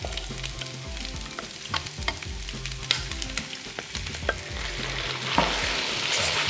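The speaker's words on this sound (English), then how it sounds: "Give that a quick stir through to combine everything" Sweet and sour crispy pork with onions and peppers gets stirred through sauce in a hot wok, a loud continuous sizzle with repeated scraping and clattering spatula strokes, the hiss swelling toward the end.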